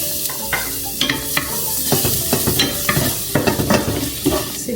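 Onions sautéing in a pan, a steady hiss of frying overlaid with repeated sharp scrapes and clatters of a utensil stirring them, close and fairly loud, with no talk.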